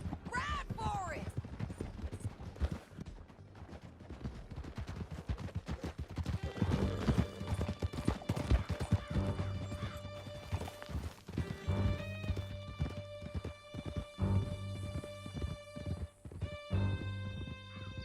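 Horses galloping through a canyon in Red Dead Redemption 2, rapid hoofbeats with a whinny early on, shouted voices over the ride, and then a swelling musical score.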